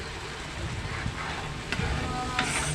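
Garlic crabs in a pan with oyster sauce as a bottle of Sprite goes in, giving a steady, loud, close sizzle and hiss with faint scraping, and no talking.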